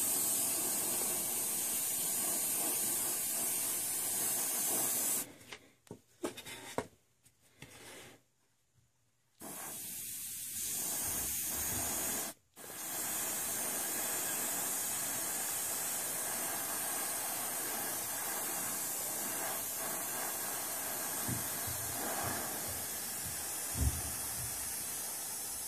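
An airbrush sprays Vallejo Surface Primer in a steady close hiss, broken by a few short pauses and bursts before the spraying resumes continuously.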